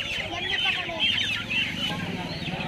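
Chickens and roosters at a busy Sunday hen market in Kiratpur, Uttar Pradesh, clucking and squawking steadily and close by while someone talks over the birds.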